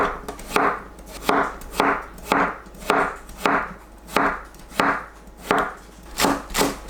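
A knife slicing a potato into 0.5 cm thick rounds on a cutting board, about a dozen crisp, evenly spaced chops in a steady rhythm, close and clear without speech.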